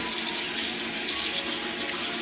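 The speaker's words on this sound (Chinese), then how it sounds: "把这些叶子摘下来， 然后清洗干净" Perilla leaves are rinsed under a running kitchen tap, with a steady, close hiss of flowing water and no pauses.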